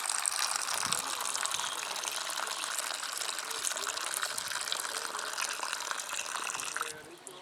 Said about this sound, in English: First I fill the water into the bowl.